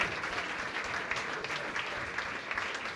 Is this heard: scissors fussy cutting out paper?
no